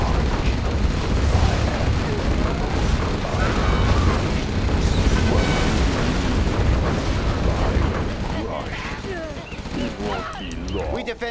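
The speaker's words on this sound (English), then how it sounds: "if you lay down enough artillery shells in the barrage and just walk away, that fire will still kick up a little bit" An artillery shell barrage in Command & Conquer Generals Zero Hour produces a dense, continuous rumble of overlapping explosions and booms. The blasts are loud and sustained for most of the clip, then thin out toward the end.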